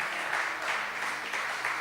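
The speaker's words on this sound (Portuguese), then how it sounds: "Quem crê nisso, aplaude ao Senhor bem forte." A church congregation applauds during a bishop's sermon, producing a brief, dense burst of clapping from many hands that stays fairly steady and moderately loud.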